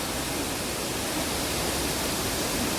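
Constant heavy rush of falling water at Mallalli Falls, a full broadband roar that stays even and close throughout, with no one speaking.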